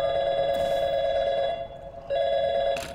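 A telephone in Portal 2 rings in two long electronic trills separated by a short pause, loud and steady, with faint game ambience and no voices.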